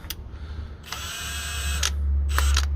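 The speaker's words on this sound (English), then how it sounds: "got the mid-torque with a 22 millimeter on here" Milwaukee M18 Gen 2 mid-torque impact wrench with a 22 mm socket working at a salvage yard: short bursts of rapid hammering, one brief and one nearly a second long, then a steady motor hum and two quick final bursts.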